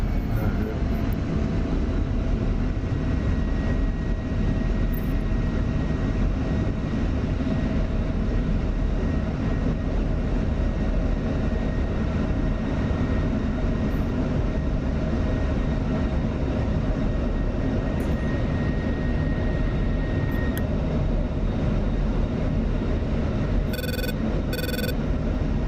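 An F-16 Viper jet engine landing on a carrier in the DCS video game, a steady, loud, continuous roar with a sustained whine running throughout, ending with a few brief electronic beeps.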